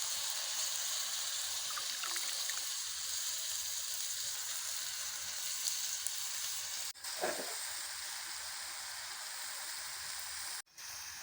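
Bitter gourd slices dropped into hot oil in a pan, frying with a steady, dense sizzle that holds for several seconds, broken by a couple of brief clicks and knocks nearby.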